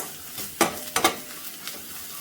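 A spoon scrapes and stirs masala in a pan for vermicelli chicken pulao, with three or four distinct scraping strokes over a soft background sizzle, close and fairly loud.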